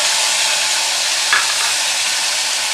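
Paste of white and black mustard seed, poppy seed and green chilli going into a hot pan with oil, a loud continuous sizzle with a brief stirring clatter midway, no talking.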